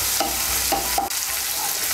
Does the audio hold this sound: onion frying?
yes